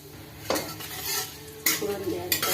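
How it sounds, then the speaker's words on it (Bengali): Bay leaf, dried chilli and cumin dropped into hot oil for tempering, a close crackling sizzle that surges in short bursts with a few utensil clinks against the pan. "ফোড়নের জন্য তেজপাতা, শুকনো লঙ্কা আর জিরে দিয়ে ফোড়ন দিলাম।"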